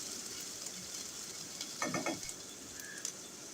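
Onions frying in a pan on a medium flame give a low, steady sizzle, with a brief burst of stirring or scraping near the middle. No voices.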